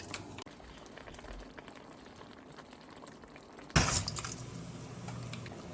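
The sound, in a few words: salted water boiling with spaghetti noodles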